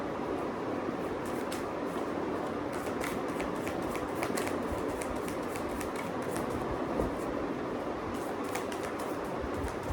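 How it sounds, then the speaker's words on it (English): Tarot cards are shuffled continuously for about ten seconds, a steady papery riffling and flicking at close range with quick sharp snaps, no talking. "So let's begin shuffling."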